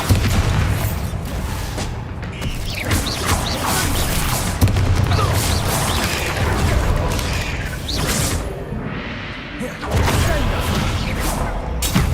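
Bombarda spell blasts going off in Hogwarts Legacy combat, a dense run of booming explosions and crashes with whooshes, loud and continuous for the whole stretch with brief dips between bursts.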